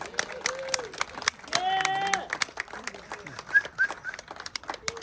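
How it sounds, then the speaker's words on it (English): Scattered applause from a small audience at a Navy birthday ceremony in a VFW hall honoring sailors, with light clapping under close talking and chatter, plus a few whistles. "Please give them a round of applause."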